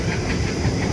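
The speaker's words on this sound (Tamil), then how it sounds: "ட்ரெயின் வந்தது போயிடுச்சு" A train passes on a railway, a steady, loud rumble of wheels and rolling stock with a hissing wash of noise throughout and no voices.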